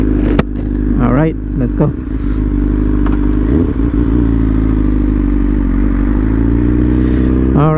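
A motorcycle engine idles loudly and steadily up close, with a couple of brief revs near the start, while someone talks over it.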